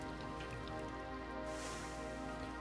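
Rain in The Forest video game patters steadily on a shelter or surface, a soft, even wash of droplets with no break and no voices.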